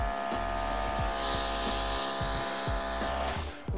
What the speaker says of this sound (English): So, we have a built-in air compressor. Plug this in.